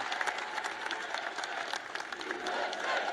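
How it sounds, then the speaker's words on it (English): Large rally crowd applauding and cheering continuously, dense clapping with shouts throughout, loud and sustained. "And the crowd goes wild."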